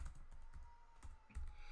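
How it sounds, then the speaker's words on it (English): Quiet typing on a computer keyboard during a casual online chat, soft rapid key clicks in an irregular rhythm with low room noise underneath. "I'm typing here to Mars really quick."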